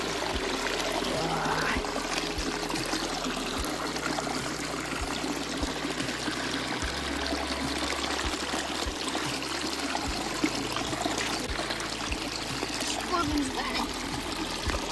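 Cold spring water streams and gurgles steadily nearby in an outdoor setting, a constant rushing trickle that continues unbroken throughout.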